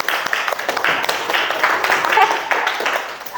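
A classroom group claps, a loose crowd of hands patting in an uneven rhythm, close and moderate in level, with voices mixed underneath.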